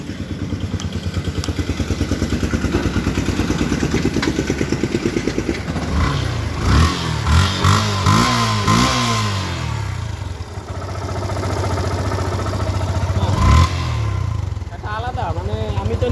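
A second-hand Yamaha FZS V2 motorcycle engine idles with a steady, close, throbbing pulse, then revs up in several quick blips before settling back to a loud idle.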